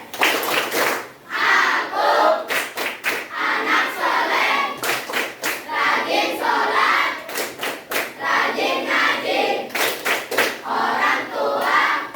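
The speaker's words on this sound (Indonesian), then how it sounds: "Ayo, Tepuk semangat." A group of schoolchildren performs an Indonesian clapping chant, sharp rhythmic hand claps in quick bursts mixed with loud shouted chanting voices, close and energetic throughout.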